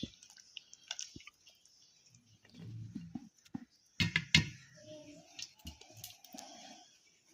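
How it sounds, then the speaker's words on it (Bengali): Pieces of katla fish slide into a kalia curry with soft wet plops, squelches and scattered drips. The sounds are quiet and sparse, with a clearer burst of splashing partway through. "এবার কাতলা মাছটা আমি ঢেলে নেবো"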